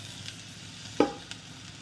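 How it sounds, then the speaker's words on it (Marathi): Drumstick pods and cut potato stir-fried in masala in a pan, giving a soft steady sizzle with one brief scrape of stirring, no voices. "आणि आता व्यवस्थित मी छान असं परतून घेते ह्याच्यामध्ये शेवगा आणि बटाटा मसाल्यामध्ये"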